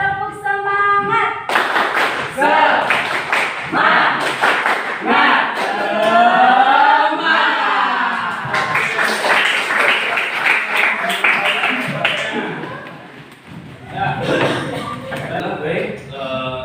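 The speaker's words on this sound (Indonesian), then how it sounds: "1, 2, 3, tepuk semangat." A school class performs the tepuk semangat spirit clap, bursts of rhythmic group clapping alternating with children chanting and singing together, loud and close, ending in a final clapping flourish.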